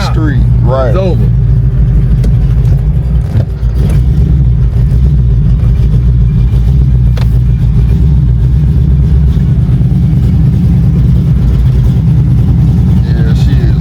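Small-block Chevy V8 fed by a Holley electric fuel pump, running loud and close with a rough, uneven low rumble that stumbles and sputters throughout while a car rides along; people talk over it.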